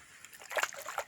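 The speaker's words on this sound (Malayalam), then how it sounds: "നമ്മൾ ഈ തോട്ടിലാണ് ഗൈസ്. നല്ല തണുപ്പുള്ള വെള്ളമാണ് ഇവിടെ." Water splashing and sloshing in a cold stream with black stones, a short burst of close splashes rising and falling over about a second.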